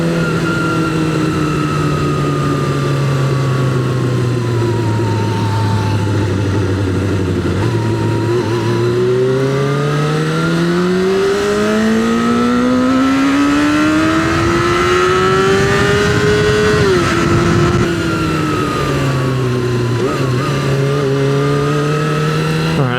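A Suzuki GSX-R 400 motorcycle engine revs up and down, the pitch dipping then climbing steadily before settling again, loud and close for the whole stretch with no talk.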